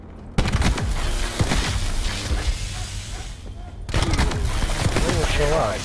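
Video game gunfire in rapid bursts and rattling volleys, loud and close with booming impacts, broken by a short near-silent gap, while a player talks over the action.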